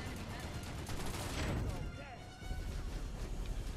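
A flashbang grenade detonates in Planetside 2, a loud burst over ongoing gunfire followed by a high ringing tone, with a player talking throughout.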